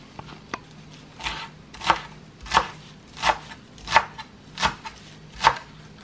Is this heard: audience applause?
no